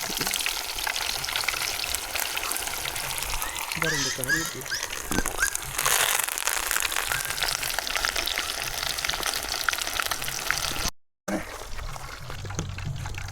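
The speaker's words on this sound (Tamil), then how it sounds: "நல்ல முரட்டு மீன் அங்கே பார்த்தீங்கன்னா வறுத்துக்கிட்டு இருக்கோம்" A whole large tilapia frying outdoors over a wood fire: a steady, fairly loud sizzle of hot oil runs throughout, with people talking over it.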